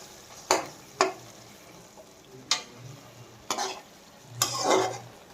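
A spoon stirs turmeric into a country chicken curry masala in a pan, giving five sharp scraping strokes at uneven intervals over a soft sizzle, the last one longer and louder.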